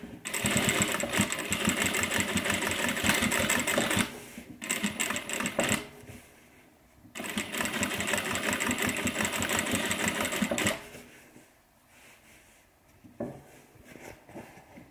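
A sewing machine back stitches a messenger bag, running in fast rhythmic bursts of needle clatter: two long runs, separated by short pauses and a brief stop-start burst, then quieter handling sounds at the end.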